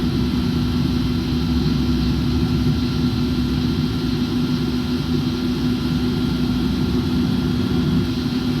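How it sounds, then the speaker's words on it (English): Airliner engines spinning up in Microsoft Flight Simulator, a loud, steady jet roar with a sustained low hum and a thin high whine, unchanging across the whole stretch, with no voices. "start the engines and we can get the show on the road"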